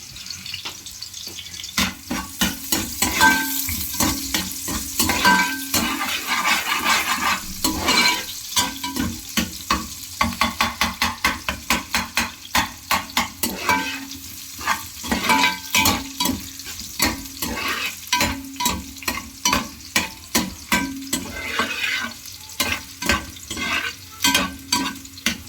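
Marinated chicken sautéing in a hot pan for Chicken Manchurian, a steady close sizzle broken by rapid rhythmic scrapes and clatters of a spatula stirring against the pan.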